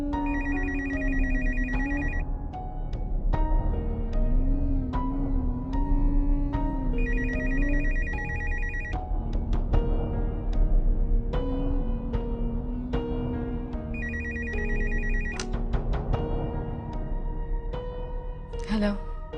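A telephone rings in repeated bursts of a bright electronic bell tone, clear and close, with pauses between rings while people speak in the room over and between them.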